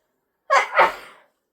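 A single short sneeze, close and fairly loud, in two quick bursts, with nothing else around it.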